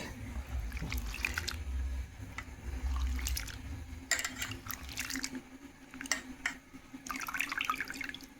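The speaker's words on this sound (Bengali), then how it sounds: "ওই যে ধুয়ে নিলাম সব আলুটা" Cut potatoes being washed by hand in a village home kitchen, with quiet splashing, dripping and trickling water in irregular bursts, faint and close.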